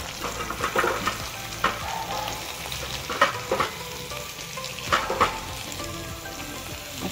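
Chopped onion and capsicum frying in a pan with a steady sizzle, stirred now and then with soft scraping knocks, close and moderately loud, no voices.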